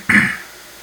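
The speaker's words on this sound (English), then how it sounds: "Close your ears while I cough." A single short cough, close and fairly loud, quickly fading to quiet.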